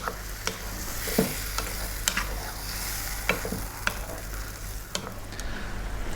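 Tomatoes sizzle in a pan over medium heat, a continuous soft frying crackle broken by periodic scraping strokes of a spoon stirring, with no voices.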